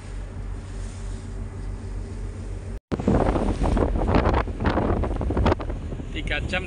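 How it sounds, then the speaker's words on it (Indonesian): Strong wind buffets the microphone aboard a boat travelling from Agats harbour toward Jufri Island, a loud roaring rush that drops out briefly, then returns harder with gusty bursts and water noise. "Angin kencang."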